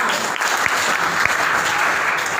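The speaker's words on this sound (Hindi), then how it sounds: "ताली हो जाएगी" Applause from an audience at an Indian Independence 75th anniversary gathering, a dense continuous clatter of many hands filling the brief moment, loud and even.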